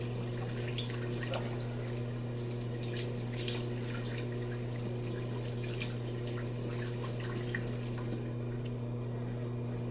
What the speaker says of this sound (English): Doing a cold pre-shave wash here.